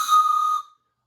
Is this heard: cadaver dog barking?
no